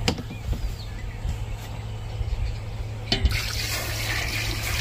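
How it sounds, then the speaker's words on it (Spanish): Water from a small pot pours into a chicken pozole, a soft continuous splashing and trickling that swells near the end, with no talking. "Aquí tengo una ollita con agua."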